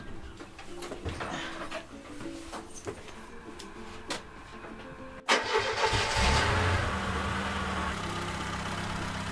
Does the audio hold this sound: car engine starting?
yes